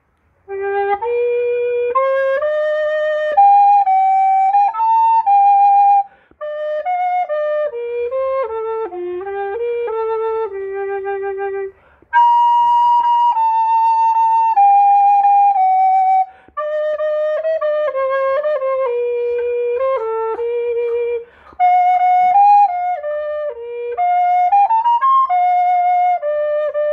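A solo alto saxophone plays a melodic line of sustained notes in several phrases separated by brief pauses, clear and close, with no voices.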